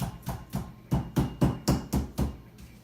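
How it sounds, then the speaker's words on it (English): A meat hammer pounds liver thin in a steady rhythm of about ten dull, close thuds, evenly spaced at roughly one every quarter second, with no talking. "I'm almost done with my meat hammer here. Pounding it out."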